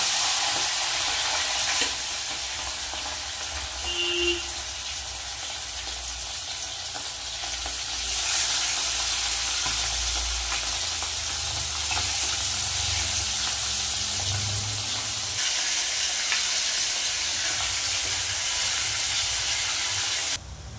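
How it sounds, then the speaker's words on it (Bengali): Pomfret fish frying one by one in hot oil in a kadai on a gas stove: loud, continuous close sizzling and spitting, with surges of crackle and hiss as the pieces settle, no voices. "মাছগুলো একে একে ভেজে নেব"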